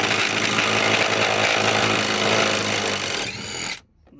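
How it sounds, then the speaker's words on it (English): A DeWalt 20V max brushless lithium-ion impact driver hammers loud and continuous up close for several seconds, working on a lockbox under a seat, then stops abruptly with a brief tail of noise. "it's a DeWalt 20 volt max of lithium, I believe, ion, brushless motor. It's a little impact"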